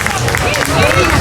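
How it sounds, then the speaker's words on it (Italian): Applause from a carnival crowd in Sant'Antioco, Sardinia, during Carnevale 2020: dense, steady clapping that fills the whole short moment, mixed with crowd noise and loud voices. "un applauso!"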